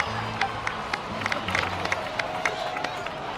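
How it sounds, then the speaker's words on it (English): A video game crowd claps and cheers at a steady level, a dense wash of applause with scattered sharp claps and voices mixed in. "So, please give another round of applause for them."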